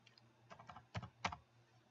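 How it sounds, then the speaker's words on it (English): Someone types on a computer keyboard while setting user security permissions, producing a few quiet bursts of key clicks with short pauses between them. "as soon as I started typing that in"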